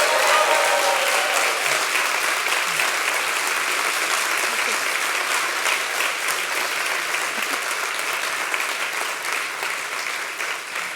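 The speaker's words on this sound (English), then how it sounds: "give them an enthusiastic and loud round of applause" Enthusiastic theatre audience applause at the ARIA 2025 awards ceremony, a long sustained wave of dense clapping that starts loud and slowly eases, with no talk over it.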